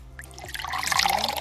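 Spiced Christmas sangria poured into a cup, heard up close as a short, steady liquid trickle that fills out and grows a little louder over about a second and a half, with no talking.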